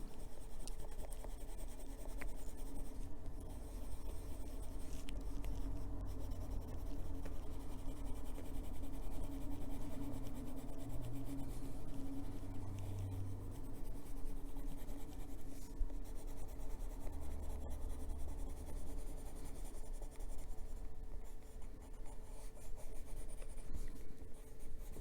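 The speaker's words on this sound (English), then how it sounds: "we take the blending pencil and go over the whole" A blending pencil rubs steadily across a coloring page of a manga mermaid, giving a faint, continuous scratchy scribbling close up with no voices.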